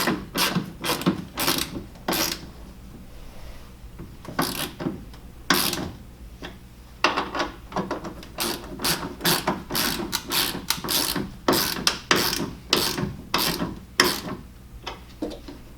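C-clamps being tightened on a truck bed cover for a GMC pickup, a rapid series of rhythmic ratcheting clicks in short bursts with brief pauses, close and fairly loud, no talking.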